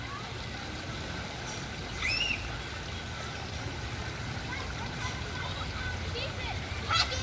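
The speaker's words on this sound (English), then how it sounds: "we're just going to sit here and listen to the stream and the laughter of children" A garden stream flows steadily with a soft, continuous wash of water, while children's voices and laughter drift faintly from the background.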